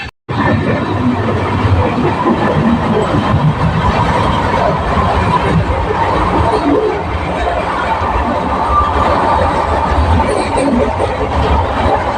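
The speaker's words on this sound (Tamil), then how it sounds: "நம்ம ட்ரெயின் இப்போ வந்து திருநெல்வேலி கிராஸ் பண்ணி போயிட்டு இருக்குங்க" An Amrit Bharat Express passenger train runs past Tirunelveli with a steady, loud rumble and rattle of wheels and carriages, continuous throughout with faint babble of voices mixed in.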